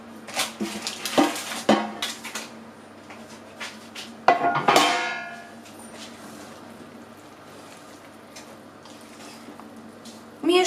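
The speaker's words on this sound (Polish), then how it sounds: "Mieszamy" Spoon scraping and clanking against a pot while apples and softened pumpkin pieces are stirred together, a few sharp metallic knocks then quieter wet stirring, close and alone.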